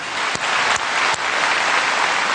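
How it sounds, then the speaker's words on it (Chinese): A church congregation claps together in a sustained, loud round of applause, an even roar of many hands with a few sharper accents near the start. "我们再次为你鼓掌"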